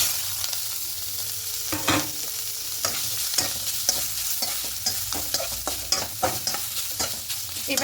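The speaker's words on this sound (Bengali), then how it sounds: "খুব নাড়াচাড়া করে হালকা করে একটু ভেজে নেব" Chopped carrots, green chillies and whole cumin seeds fry in hot oil while a spatula stirs them, making irregular scraping strokes and clatter over a continuous low sizzle.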